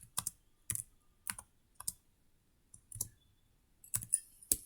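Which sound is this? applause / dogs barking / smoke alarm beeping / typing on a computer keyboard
typing on a computer keyboard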